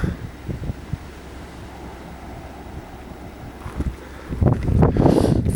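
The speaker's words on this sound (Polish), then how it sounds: "Cisza, śpiew ptaków, słuchajcie, szum morza." Sea surf on the coast near a seaside cemetery at Igueste de San Andrés, Tenerife, a soft distant wash under wind noise that swells into louder rushing waves near the end.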